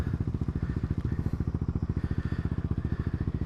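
Big motorcycles pass along a street in Italy, a steady close engine drone with a fast regular pulsing throb that holds for several seconds, with no talk over it.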